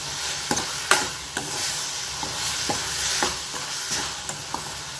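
Tomatoes and onions sautéing in a pan for paneer butter masala, with a soft continuous sizzle broken by repeated scraping stirs of a spoon against the pan, close and clear, no voices.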